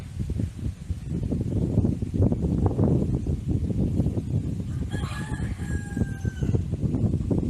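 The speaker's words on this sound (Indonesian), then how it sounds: "Ada suara ayam, Bu." A rooster crows once, partway through, a hoarse, stretched cock-a-doodle-doo, fairly near, over a continuous bed of low rumbling background noise.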